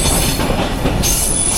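Banolata Express pulls into Dhaka Airport station; loud close rumble of rail cars with squealing wheels and a sharp high screech as the train brakes.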